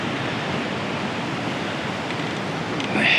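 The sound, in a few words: ocean waves on coast in Japan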